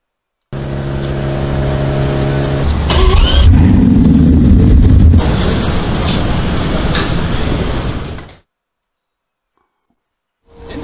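A Bugatti's engine idles with a deep hum on a London street by Leicester Square, then revs hard in a loud surge before settling and cutting off into near silence. A faint sound returns at the end.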